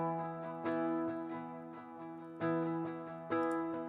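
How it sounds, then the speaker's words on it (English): Clean-toned electric guitar chords strummed in a loose rhythm, with a few stronger accented strums standing out; steady and close, no voices. "I brought in the electric strummed guitars"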